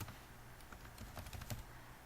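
Faint, rapid tapping on a computer keyboard sits beneath a steady hiss of background noise, a short run of soft clicks with no talking.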